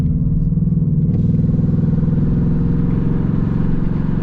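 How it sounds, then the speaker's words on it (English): A 2024 Ford Mustang GT idles loudly and continuously nearby with its exhaust in track mode, pulsing in a steady, deep, low burble without any talking. "Sounds so good though. So we're in track mode on the exhaust right now."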